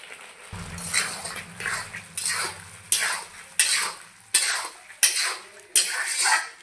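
Jackfruit being stir-fried in a spice masala, with a steady run of loud, regular scraping strokes of a spatula against the pan, roughly one every half second, over a faint low hum.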